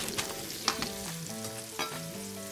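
Food searing in an Instant Pot, a continuous sizzle with a couple of sharp pops and a tonal hum running underneath.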